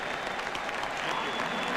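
A baseball stadium crowd at the 1996 World Series applauding Kirby Puckett, a dense, steady wash of clapping and crowd noise, sustained without pause.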